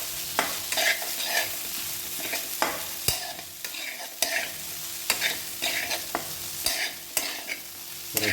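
A ground chicken cutlet mixture is stirred in a pan with a spatula, producing repeated sharp scraping strokes in an uneven rhythm over a continuous oily sizzle, close and fairly loud with no voices.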